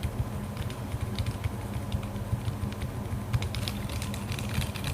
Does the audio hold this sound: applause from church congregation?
no